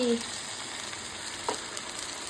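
Luchi frying in hot oil on a table-top stove, a steady low sizzle and hiss running throughout, with a soft clink of a utensil partway through and no talking.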